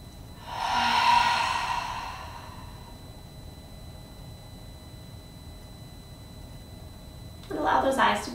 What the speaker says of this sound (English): Take a full inhale.